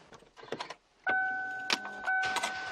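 A 2009 Kia Mohave 4WD starts up, with a sudden burst of engine noise joined by steady electronic tones after a second of quiet rustling, then a continuous close hum.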